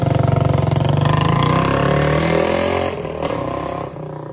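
A Raider motorcycle engine runs close by with a rapid, pulsing throb that revs then drops back toward idle, heard alone without talk.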